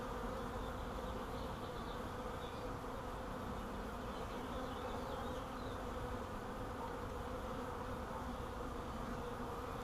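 A swarm of honeybees, caught and being installed in a hive, gives off a dense, even buzzing drone that holds steady and close throughout, with no voices.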